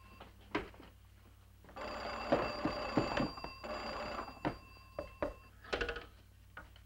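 An old-fashioned telephone bell rings in repeated bursts, fairly close, with a few knocks and clicks between rings.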